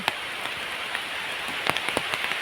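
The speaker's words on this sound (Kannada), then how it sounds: "ಜೋರು ಬಂತು ಮಳೆ ನೋಡಿ" Heavy rain pours steadily in a dense, hissing wash, with occasional sharper drips and taps standing out near the end.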